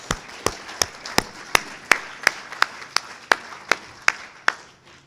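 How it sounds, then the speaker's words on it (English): About thirteen sharp, evenly spaced claps ring out one after another at a steady pace for graduates at a college commencement, close and clear with no talking. "I think you deserve a round of applause."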